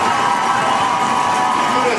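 A roller derby crowd cheers loudly during a bout, a dense, continuous roar of shouting voices filling the arena without pause.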